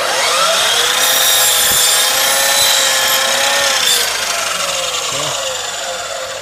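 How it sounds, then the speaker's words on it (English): A power saw cuts through a large wooden baseboard, its loud, steady whine holding for about four seconds and then easing off slightly toward the end, with no talk over it. "You gotta know your saw, and you gotta know exactly where that line goes in order to cut it."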